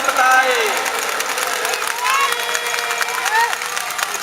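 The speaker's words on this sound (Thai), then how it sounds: "ขอเสียงปรบมือดังให้กำลังใจกันในโอกาสนี้" Large outdoor crowd at a red-shirt political rally in a stadium applauding and cheering steadily, a dense continuous wash of noise with scattered shouts and whistles rising over it.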